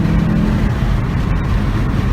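A Volkswagen Golf GTI pulls hard at full throttle, a loud, steady engine roar and road drone heard from inside the cabin, with no talk.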